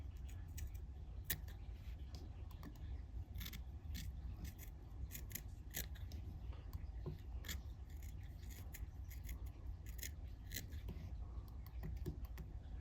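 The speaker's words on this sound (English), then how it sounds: "I'm going to take a sharp scissors and I'm going to start trimming these." Sharp scissors trim a fly-tying body in a series of quiet, close, crisp snips at an irregular pace against a low background hush.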